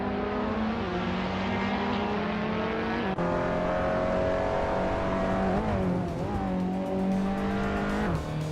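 A 2012 Mini Cooper Challenge race car in a racing video game drives at a steady high engine drone, with a brief dip in revs midway and shifting pitch near the end, loud and continuous throughout.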